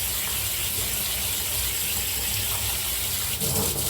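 Canned beans being rinsed under a running tap as part of making beef chili with elbow pasta, a steady broadband gush of water splashing in a sink for the whole stretch, close and continuous with no talk.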